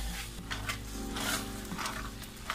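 Tomato frying in a pan for a sofrito, a steady close sizzle with light stirring scrapes running throughout, no talking.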